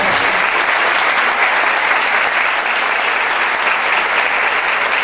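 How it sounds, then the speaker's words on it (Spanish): Dense, steady applause from a large audience at a national congress of supervised family contact centres, loud and continuous throughout with no talk over it. "Un fuerte aplauso, por favor."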